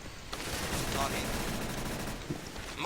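Continuous automatic gunfire during a CS:GO JailBreak match, dense overlapping bursts forming a steady loud clatter with scattered sharper cracks, heard alongside someone talking.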